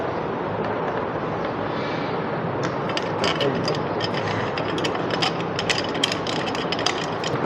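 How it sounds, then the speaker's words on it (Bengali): Screws being tightened while a ceiling fan is fitted: a steady ratcheting, clicking mechanical rattle runs throughout, close and fairly loud, with sharper metallic ticks toward the end and no talking. "এর যে তিনটা স্ক্রু ছিল সেই স্ক্রু লাগাবো"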